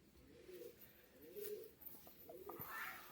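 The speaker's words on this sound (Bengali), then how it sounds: "এটা হচ্ছে মাদি পায়রা" A female Giribaj pigeon coos close by in soft, low repeated calls, with faint background noise and no talk.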